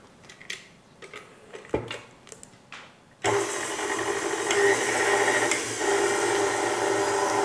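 After a few light clicks and knocks, an electric mixer switches on and whirs steadily, loud and close, whipping butter with sugar in a bowl.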